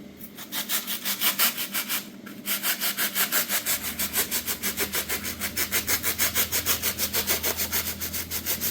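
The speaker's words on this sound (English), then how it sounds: "Cut some of the edges off right here." A lowrider bicycle build is cut by hand with rhythmic back-and-forth sawing strokes, close and steady, with a low hum joining partway through.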